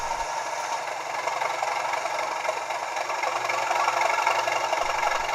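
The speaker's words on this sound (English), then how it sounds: "Just get the revs up, and we'll start moving." Bachmann Class 37/7 model diesel locomotive with a DCC sound decoder revs its engine: a steady mid-pitched rumble with a rattling texture that swells slightly toward the end, heard alone.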